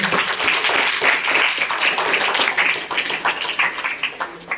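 A classroom of students applauds loudly, a dense steady patter of many hands clapping at once for several seconds with no pause.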